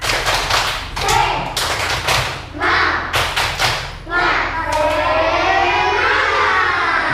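Schoolchildren in a classroom chant loudly in rhythm, punctuated by sharp bursts of synchronized hand clapping, continuing steadily from start to finish.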